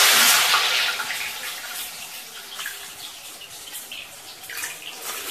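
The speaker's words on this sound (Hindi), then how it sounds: "अब हम इसको डीप फ्राई करेंगे। तेल गरम है, हम गट्टों को" Gram flour gatte dumplings deep-frying in hot oil give a loud, close sizzling hiss that surges at the start as they drop in, then settles into a steady crackling bubble.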